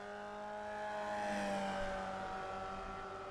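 Formula Vee single-seater race cars lapping the Brands Hatch Indy circuit, a steady droning engine note with shifting harmonic whine as cars pass at moderate distance, continuous without talk.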